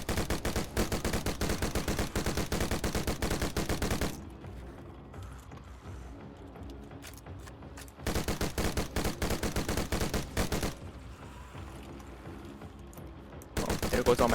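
Assault rifle gunfire in the zombie shooter Dead Frontier 2: two long, dense bursts of rapid automatic shots, loud and close, with quieter gaps and a third burst starting at the end.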